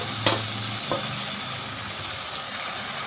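Eggplant for a Bihari-style baingan bharta goes into hot oil with a brief splash, then fries with a steady, close sizzling hiss for a few seconds, with no voices.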